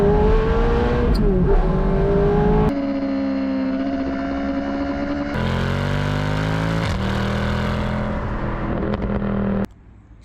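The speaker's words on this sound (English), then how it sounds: "So here is my bella rossa, my beautiful Ferrari F430 Spider with a manual gearbox." A manual Ferrari F430 Spider's engine runs loud and close, its pitch rising and dropping through a few rev changes before cutting off abruptly near the end.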